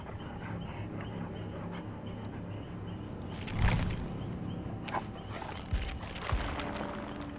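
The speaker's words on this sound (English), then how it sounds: "I also think the dog's name being Snug is really cute." Snug, the dog in the video game Dead by Daylight, pants in quick soft breaths beneath a low game ambience, with a few thumps and heavier movement sounds scattered throughout.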